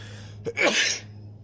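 A single sharp sneeze, close and fairly loud, with a quick intake of breath just before it, then quiet.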